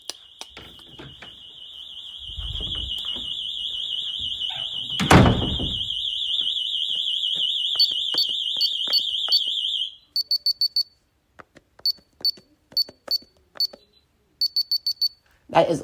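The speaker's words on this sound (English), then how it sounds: "Here's the alarm." An Abode home security system alarm shrieks in a loud, steady high-pitched tone for about ten seconds, then continues as short repeated chirp bursts, with a thunk and faint voices early on.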